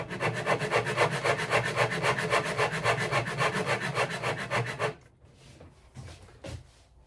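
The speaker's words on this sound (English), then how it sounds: "10 to 15 rounds of this sanding and scraping" Steady rhythmic rasping of a 1950s Armin Paulus archtop guitar's wood being sanded and scraped, fast repeated strokes for about five seconds, then a few softer scrapes after a pause.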